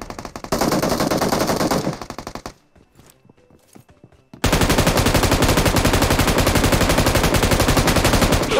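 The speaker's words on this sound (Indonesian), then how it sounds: "Ada tembakan dari sini soalnya." Rapid automatic gunfire in a video game rattles loudly in long bursts, cutting out briefly to near quiet before resuming even harder and sustained.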